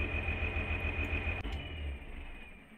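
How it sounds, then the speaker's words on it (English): A tractor engine in Farming Simulator 19 runs steadily with a low, throbbing drone, holding an even idle-like hum that shifts slightly partway through, with no talking over it. "That tractor does sound good."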